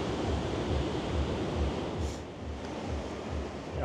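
Sea waves washing in below Blackpool South Pier at night, a steady broadband surf rumble with gentle surges, loud and continuous with no voices over it.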